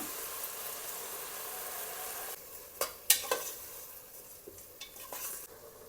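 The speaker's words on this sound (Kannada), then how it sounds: "ಇವಾಗ ಈ ವೆಜಿಟೇಬಲ್ಸ್ಗೆ ನಾನು ಏನು ರುಬ್ಬಿಟ್ಕೊಂಡಿದ್ನಲ್ಲ ಆ ಮಸಾಲಾನ ಹಾಕ್ಕೊತಾ ಇದ್ದೀನಿ" Ground masala being stirred into vegetables in a pan, with a steady faint sizzle and soft scraping stir strokes, a few sharper utensil clicks near the middle, close and quiet with no talking.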